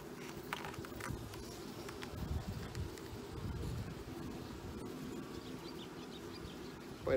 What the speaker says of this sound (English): Quite a bit of bees on here.